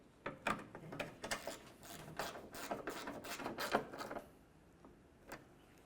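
Phillips head mounting screws are driven into a 1994–2002 Dodge Ram 2500 headlight assembly with a hand screwdriver, giving a quiet, close series of uneven ratcheting clicks and scrapes that fade out toward the end.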